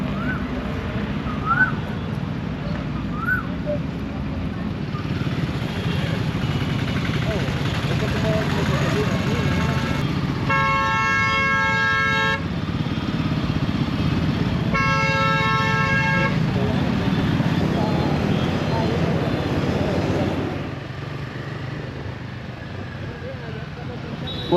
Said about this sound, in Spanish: Y los pitos y el tráfico de aquí de la India.